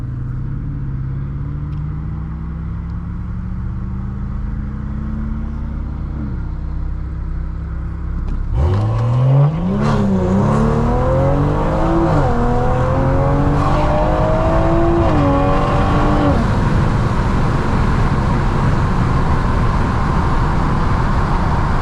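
Stage 2 tuned BMW M340i accelerating hard, its engine note climbing loud and close through several gear changes after a steady idle-like drone, with no talk over it.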